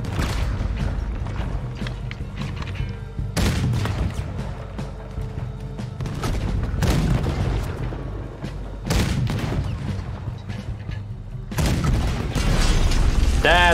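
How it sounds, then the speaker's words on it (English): Heavy booming ship cannon blasts fire repeatedly in a naval battle in Red Dead Redemption 2, amid rumbling battle noise and mechanical clatter, loud and close, with a few sharp bursts standing out. "Use the cannon, Arthur."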